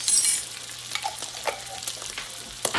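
Fresh garlic is stirred into fried rice in a hot pan, a soft sizzle under scattered scraping and clinking of the utensil against the pan, with a louder hiss at the start and a sharp clack near the end.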